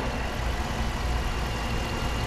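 A 2019 Dodge Durango Citadel's 5.7 liter V8 Hemi idles smoothly and steadily, a close, even low rumble with no voices over it.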